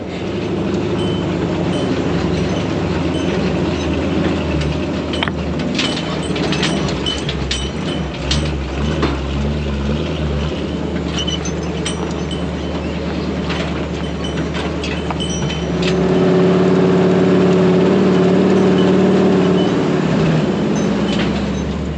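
Truck interior noise while towing a trailer with a strapped-down side-by-side, a steady low road rumble with rattles and clunks throughout, growing slightly louder and tonal near the end, no talking.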